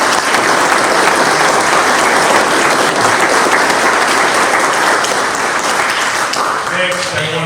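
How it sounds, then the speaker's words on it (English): Audience applause at a National Vietnam Veterans Day 50th anniversary program, loud sustained clapping from a large crowd filling the room, fading slightly at the end as a voice begins. "For that, we owe her an applause."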